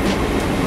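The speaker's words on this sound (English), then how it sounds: "We're not missing this train." Train passing close by at a station in Peterborough, UK, heard as a steady, loud rumble of rail cars with faint wheel clatter filling the whole moment, no voices over it.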